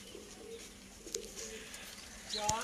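Racing pigeons settle during a kabootar bazi flying session in Sialkot, with soft, faint cooing and light rustling against quiet outdoor background, a brief louder flutter near the end.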